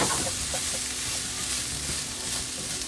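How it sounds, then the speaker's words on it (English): Corn frying in a hot pan with a steady, dense sizzle throughout, broken by a few light stirring scrapes, close and fairly loud with no talking. "Corn is starting to get that little crust on it, frying up."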